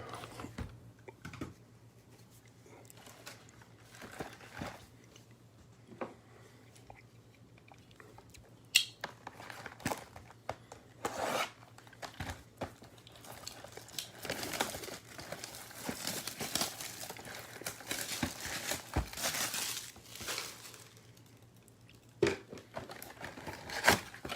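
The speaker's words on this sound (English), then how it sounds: "I'm going to start cutting open the box." A trading card box, a 2020 Bowman Draft super jumbo, is cut open, with scattered close crinkling, tearing and clicking of cardboard and plastic, irregular and fairly faint over a low hum.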